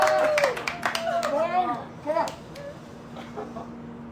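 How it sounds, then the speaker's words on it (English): Family members applauding during a live broadcast of a stratospheric freefall jump, scattered claps under a loud mix of voices and excited chatter, with a steady hum behind. "Family applauding"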